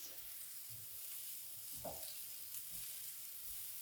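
Small sliders frying in a hot pan, with a steady broadband sizzle throughout and a couple of soft thumps and scrapes as they are flipped.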